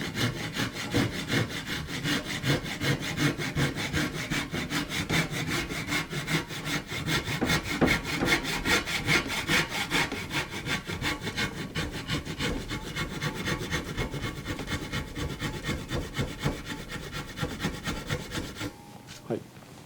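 Japanese handsaw cutting wood to shape an interlocking scarf joint in carpentry, a steady close rhythm of rasping back-and-forth strokes running continuously until a brief stop at the end.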